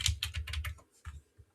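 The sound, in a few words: computer keyboard arrow keys being pressed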